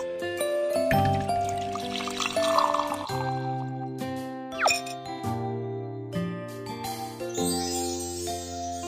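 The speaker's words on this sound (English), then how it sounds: "Pour some hot water to open the leaves." Hot water is poured over chrysanthemum tea leaves in the video game Barista Cafe, rendered as trickling liquid and bright jingling, dinging chimes over a tinkly game music backdrop, moderately quiet with no talk.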